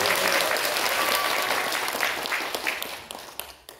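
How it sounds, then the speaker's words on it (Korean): An audience at a Korean opening ceremony claps steadily for a few seconds, the applause tapering off into scattered final claps. "우리 김교웅 의원님께 힘내시라고 더 큰 박수 한번 부탁드리겠습니다"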